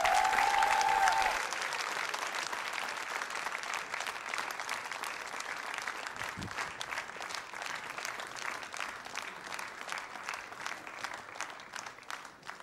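A theatre audience at a televised dance competition gala applauds the couples, steady sustained clapping from a large crowd that is loudest at the start and continues throughout.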